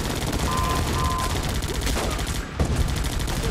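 Dense, loud, nonstop gunfire from Guns Up fills the whole stretch, with rapid overlapping shots and no pauses.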